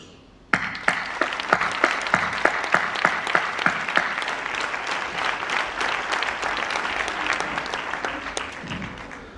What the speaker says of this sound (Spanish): pidiendo un fuerte aplauso para todos los docentes y todos los maestros